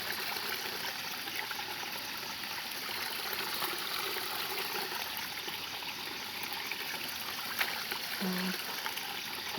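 Steady running water with a soft, continuous rushing and trickling texture, fairly close, with no pauses and a faint brief tone near the end.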